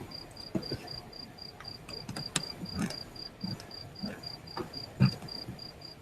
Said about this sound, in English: Robbie's trying to find a cricket in his house, but I hear it too, Robbie.